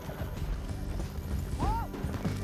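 Horse hooves galloping during a canyon chase in the video game Red Dead Redemption 2, a quick rhythmic clip-clop under music with a short whinny partway through.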